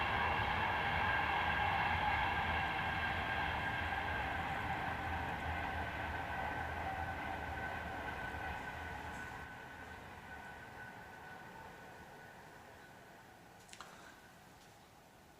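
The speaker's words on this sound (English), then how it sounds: "Train." A train passes at a distance, a steady rumbling roar with a high metallic tone that slowly fades as it moves away, ending with a faint click; no talking.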